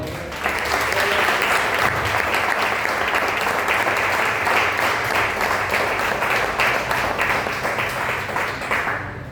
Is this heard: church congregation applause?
yes